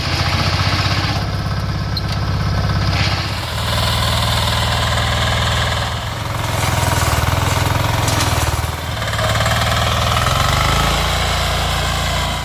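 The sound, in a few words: power tiller engine running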